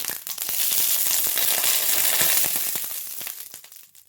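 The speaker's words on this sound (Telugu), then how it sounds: "ఇప్పుడు నూనె గరం అయింది కదా పచ్చిమిరపకాయలు ఇట్లా మంచిగా గడుపుకొని" Green chillies crackle and sizzle in hot oil for a curry, a dense, steady frying hiss with small popping bursts throughout, close and fairly loud, with no talking.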